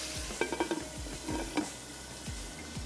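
Cooked mutton for tikka biryani frying in a pot as it is stirred, with a steady sizzle and repeated scraping strokes of a spoon against the pan, close up and without talk.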